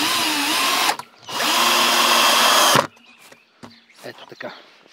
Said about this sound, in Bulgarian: в долната част тръбичката ще я захвана с винт за дъската